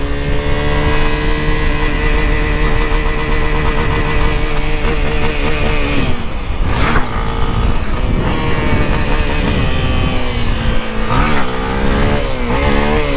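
A Honda XRE 300 motorcycle with a bent frame and no front brake revs its engine while being ridden, a loud, steady mid-pitched drone that rises and falls with a couple of throttle surges near the end.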